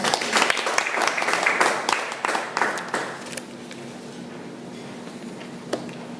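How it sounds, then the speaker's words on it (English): Audience applause at a Toastmasters club meeting, dense clapping for about three seconds that thins out and fades, leaving a quiet room with a low hum and a stray clap near the end. "A round of applause for her."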